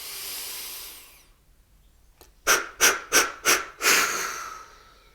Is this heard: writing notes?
no